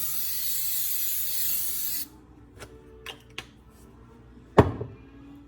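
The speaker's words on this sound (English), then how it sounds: "Okay, I'm going to spray it with cooking spray." A close, steady hiss of an aerosol cooking spray lasts about two seconds, followed by a few soft clicks and a sharp knock in the quiet.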